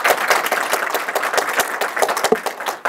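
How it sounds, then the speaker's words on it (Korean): Enthusiastic audience applause welcoming a guest speaker at a book talk forum, dense clapping with sharp individual claps standing out, sustained for three seconds. "열화 같은 박수"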